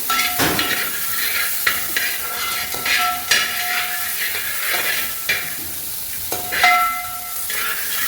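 Ingredients sautéing to golden brown in a pan, a continuous close sizzle broken by repeated metallic scrapes and clanks of a spatula stirring, loud and steady with no voices.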